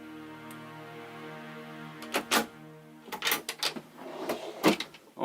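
A large drawer in the garage area of a Frankia Platin 8400QD luxury motorhome slides and thumps, with several sharp clunks and rattles following a steady background hum.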